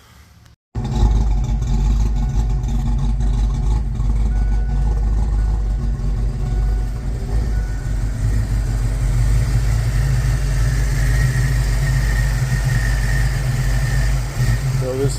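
A 1995 Ford Mustang GT with the 5.0 V8 cranks over and catches, then settles into a steady, loud rumbling idle that holds close-up for the rest of the clip, unchanging in level.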